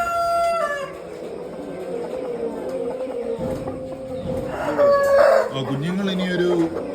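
Meat-breed chickens and roosters on a poultry farm, a rooster's crow standing out among scattered clucks over a continuous flock murmur, with some background talk.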